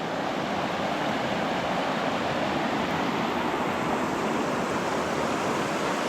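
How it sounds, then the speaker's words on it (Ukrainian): Steady, dense rushing of a swollen, muddy Carpathian mountain river after rain fills the whole clip, loud and constant with no voices. "дощики в горах, розлита річка"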